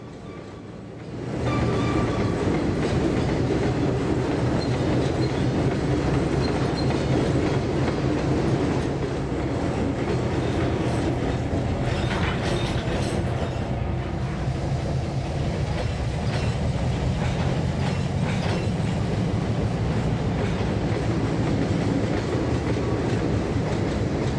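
Train sounds from the Trainz 22 railroad simulator as a locomotive shoves two boxcars toward a yard track: a steady rolling rumble with clickety-clack over rail joints, fairly close and continuous for the whole stretch.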